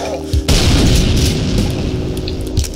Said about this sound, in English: I've got a new love for my grenades.